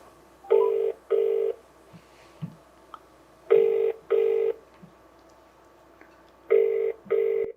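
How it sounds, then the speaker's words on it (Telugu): A telephone call being placed, with the ringback tone sounding in paired bursts three times at a steady interval, clear and electronic against a quiet background. "ఒకసారి ఫోన్ కలుపుతాను"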